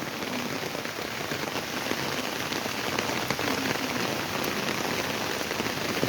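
Heavy rain falling outdoors, a dense steady wash of drops striking surfaces, close and loud, unbroken throughout with no voices.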